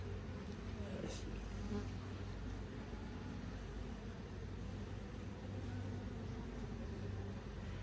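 Honeybees swarm around an open hive during a first hive inspection, giving a steady, dense buzzing hum that stays close and continuous throughout, with no one speaking over it.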